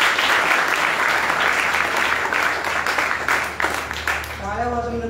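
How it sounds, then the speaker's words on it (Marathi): Steady, sustained applause from an audience at a college award ceremony, dense clapping throughout before a voice begins speaking as it fades near the end. "त्यांच्यासाठी एकदा टाळ्या."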